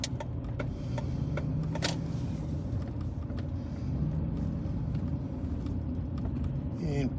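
A car's engine and tires give a low, steady rumble from inside the cabin as the vehicle turns a corner on a town street, continuous and moderately loud, with a few small clicks and no talking.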